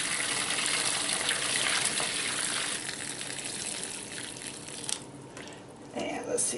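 Homemade chicken stock pours through a fine copper fry-basket strainer into a pot, a steady close splashing gush that runs almost without a break, with a few louder sloshes near the end.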